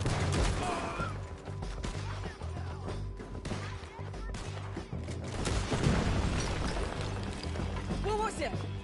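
Explosion tearing apart a jail in Red Dead Redemption 2 during a town shootout, loud booms and crashing amid scattered gunfire, with shouting voices throughout.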